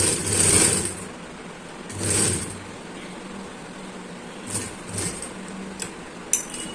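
A sewing machine stitches fabric for an iron cover in two short whirring bursts close by, followed by quieter pauses with light clinks of handling.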